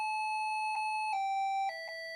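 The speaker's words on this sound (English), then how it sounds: "The tune of Auld Lang Syne." An OUTWIT kids alarm clock plays a short electronic chiming melody, the tune of Auld Lang Syne, in clear sustained notes with a few pitch changes. It is quiet and heard alone with no voices.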